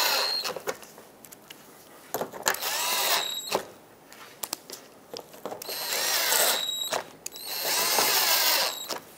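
A power drill drives screws into the front bumper shield of a 2014-2021 Mazda 6, several whirring bursts of varying length with short pauses between, close and fairly loud.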